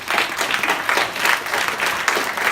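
An audience breaks into sustained applause for a speaker, many hands clapping in dense, even waves that hold steady for the whole stretch.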